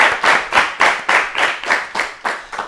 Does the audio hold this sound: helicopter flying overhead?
no